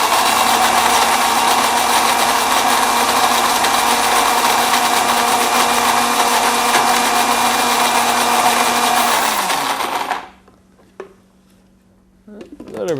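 A blender roars steadily and loudly while chopping pine nuts for a pumpkin risotto, running for about ten seconds before cutting off abruptly into near silence with a faint hum and a couple of small clicks.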